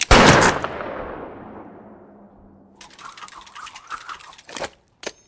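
One sharp, loud gunshot from a Western film rings out and echoes away, followed by scattered mechanical clicks and rattles.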